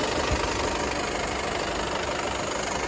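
A 2018 VW Passat B8 2.0 TDI diesel engine idles with a dense, steady clatter close up. The sound is continuous and even throughout, with no one talking.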